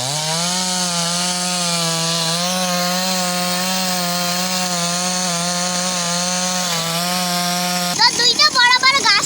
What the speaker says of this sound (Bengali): তিনজন আঙ্কেল আসিছে মেশিন দিয়ে গাছ কাটি আছে